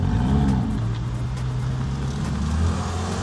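Cars roll in as a convoy at a car-spotting meet, a steady, loud engine rumble with low revving that holds close throughout, no talk.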